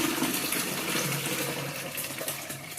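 Homebrewed hopped wort pours through a nylon filter bag into a jug, a steady close splashing gush of liquid running without a break, with no talking.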